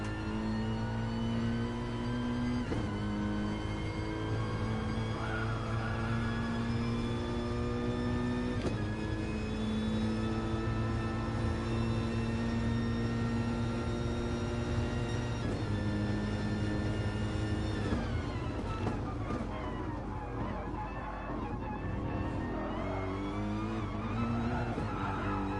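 Onboard cockpit sound of a Honda race car lapping a circuit, a steady loud engine drone with rising and falling pitch through shifts and braking into corners, continuous throughout with no talk.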